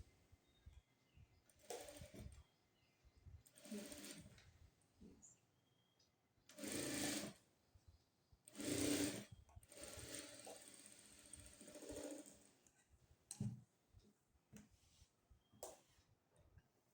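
A sewing machine stitches the lining into a blouse neckline in several separate loud bursts of whirring, with quiet pauses between them and faint handling noises.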